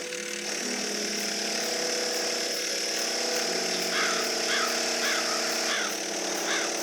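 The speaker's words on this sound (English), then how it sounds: "I'd really like to know why he's drilling holes in my castle." A power drill bores holes into stone castle walls in the video game Black Mirror 3. It gives a steady, continuous mechanical whine over a dense background hum, with a few faint, high chirps partway through.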